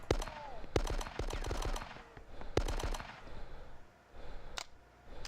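Gunfire in the PC game Die Hard: Nakatomi Plaza (2002), rapid bursts of sharp shots in quick clusters, then a couple of isolated single shots with quieter gaps between them.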